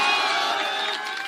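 A crowd at an outdoor political rally in Sheohar district, Bihar, claps and cheers in a loud, dense, continuous roar of applause and shouts.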